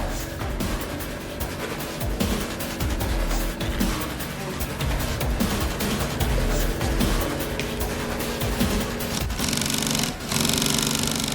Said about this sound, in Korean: 분주한 손길로 빠르게 재봉틀 위를 누비면 순식간에 소파 한 부위가 완성됩니다